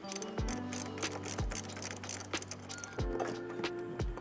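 A wrench works loose a car battery terminal under the hood of a 2022+ Toyota Tundra. Quiet, close metallic ratcheting clicks and clinks come in short repeated bursts, with faint tonal ringing between them.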